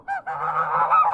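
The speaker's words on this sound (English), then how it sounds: "Got the geese having a scrap on my peg." Geese honking harshly in a close squabble beside a fishing peg on a lake, a short opening call then a continuous loud, overlapping clamour.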